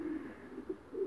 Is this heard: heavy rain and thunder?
no